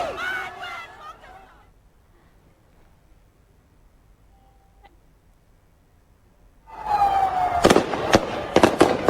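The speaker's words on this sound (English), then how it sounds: "the gunfire can actually be heard right there" Sharp loud cracks of gunfire ring out in a rapid burst near the end of an anti-Pakistan street protest in Kabul, following shouting voices and a long stretch of near silence.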